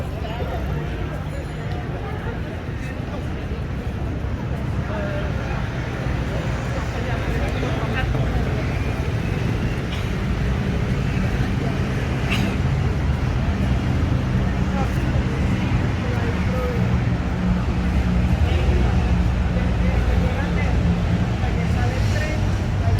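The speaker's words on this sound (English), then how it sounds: "Is the sound of traffic here in Paris." Traffic along the Champs-Élysées in Paris: a continuous low rumble of engines and tyres from passing vehicles, steady and moderately loud throughout, with occasional closer passes and faint background voices.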